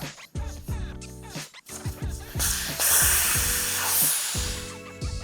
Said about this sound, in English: Next thing you want to do is deflate the tire.